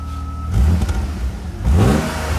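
A car engine with a newly fitted muffler revs in two close bursts separated by a lull, rising in pitch each time, with a rough, crackly exhaust note.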